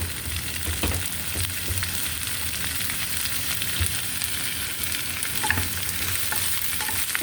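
Chayote frying in a hot pan with steady sizzling and occasional stirring scrapes, close and continuous with no talk.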